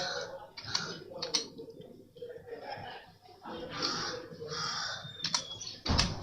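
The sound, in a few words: typing a search on a computer keyboard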